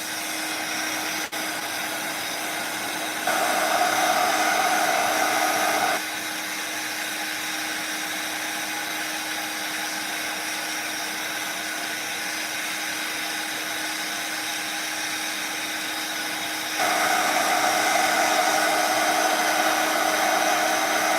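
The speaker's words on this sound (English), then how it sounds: "Okay, we're gonna hit it with a heat gun again." A heat gun blows hot air in a steady, loud whooshing roar that holds throughout, swelling noticeably louder for a few seconds near the start and again near the end as it is aimed closer.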